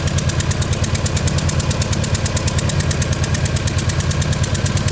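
A VW Corrado engine with its cylinder head lifted at one corner idles with a rapid, rhythmic puffing tick of escaping exhaust pressure, loud and close, a fast, even chuffing beat over the running engine.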